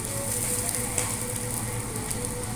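Meat grills on a hot surface at a Japanese restaurant, giving off a steady, close sizzle and crackle with no break throughout.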